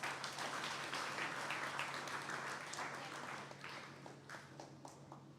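A debate audience gives a round of applause for two competing teams, a full steady burst of clapping that gradually thins and fades toward the end.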